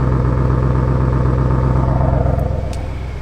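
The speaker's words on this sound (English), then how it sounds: "I'm going to open up the exhaust and this is as loud as it's going to get if you ever want to rev it." A 2019 Audi RS7 Sportback idles with its exhaust opened in RS mode, a loud, close, steady low rumble that softens slightly toward the end.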